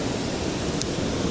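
A river current pours over a waterfall on a trout-fishing river, making a loud, continuous, close-up roar of rushing water with no voices.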